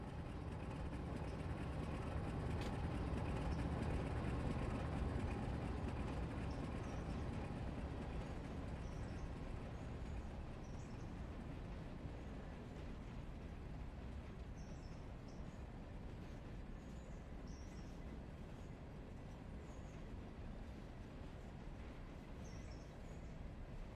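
A diesel train in the railroad video game Railroader gives a steady, continuous rumble with a faint high hiss that holds unchanged for the whole stretch, with no talking.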